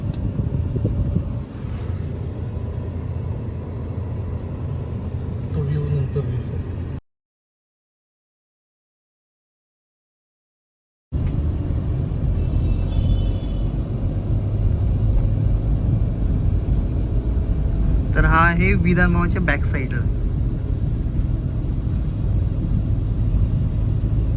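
Steady low rumble of Mumbai road traffic near the Vidhan Bhavan with passing engines throughout, cut by a few seconds of silence, and a brief high whine or horn near the end.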